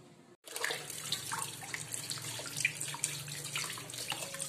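Tap water runs steadily over catfish being rinsed and scrubbed clean of slime, a close, continuous splashing stream with small scattered splashes and rubbing sounds, alone without talk.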